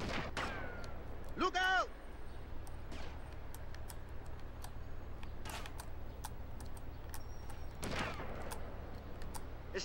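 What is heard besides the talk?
sniper gunfire in the video game GTA Vice City Stories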